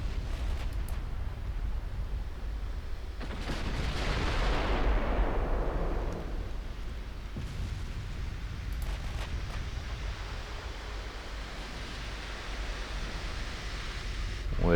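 Battleship gunfire in the naval game Ultimate Admiral Dreadnoughts: a heavy boom swells into a long rushing roar that fades over a few seconds, followed by sharper distant reports over a low background rumble.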